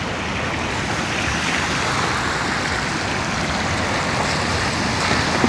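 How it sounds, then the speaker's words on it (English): Heavy rain pours and floodwater rushes down a flooded street in a dense, steady roar that stays loud and unbroken throughout, like a fast stream, with no voices. "Look at it running. Unbelievable. There's so much rain."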